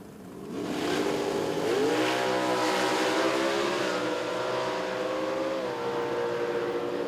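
Two drag racing cars, a Chevy II and a Mustang, roar loudly down the strip in a sustained, rising engine blast at an NMRA/NMCA event in Chicago, the pitch climbing through gear changes.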